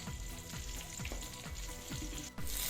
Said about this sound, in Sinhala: ඔන්න මම පොල් තෙල් ටික දා ගන්නවා